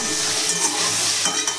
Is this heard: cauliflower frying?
yes